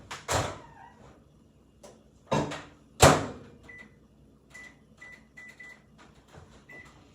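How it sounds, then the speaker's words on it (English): Several loud clunks of a microwave door opening and shutting, then a string of short, high keypad beeps. "I am gonna put this in the microwave with my clean hand."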